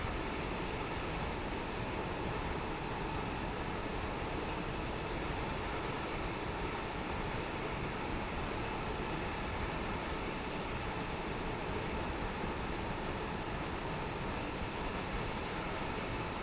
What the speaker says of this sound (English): We've got the wind noise because I've got the window open. We've got the sound of the traction motors.